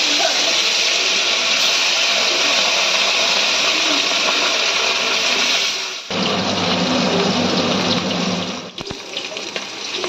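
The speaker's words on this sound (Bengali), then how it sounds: "এতে দিয়ে দিচ্ছি সর্ষের তেল হয়ে গেছে এবার মাছগুলো আমরা ভেজে নেবো একে একে" Bata fish frying one by one in hot mustard oil in a wok gives a loud, steady, close sizzling hiss that dips briefly partway through before continuing.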